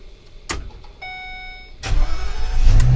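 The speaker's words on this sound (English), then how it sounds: "start the vehicle" The engine of a 2017 Coachmen RV starts with a click, a short steady dashboard chime, then the crank catching into a loud, close, rumbling idle that holds to the end.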